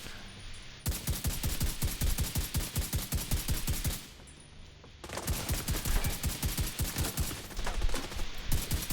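Gunfire in The Division 2 comes as two long bursts of rapid, evenly spaced shots separated by a brief lull. It is loud and close, with no speech.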